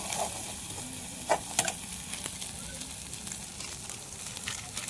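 Onion-garlic masala with salt, turmeric and chili powder sautés for a chicken curry cooked on a wood-fired stove, a soft steady sizzle with a few sharp stirring knocks near the start.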